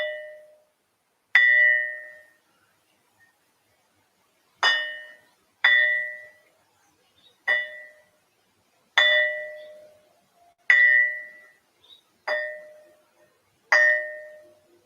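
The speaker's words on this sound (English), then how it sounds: "You realize that this thing really rings like a bell and it reverberates" A piece of quartzite rock is struck repeatedly and rings like a bell, producing eight or nine clear metallic tones with short decays, spaced at irregular intervals against quiet surroundings.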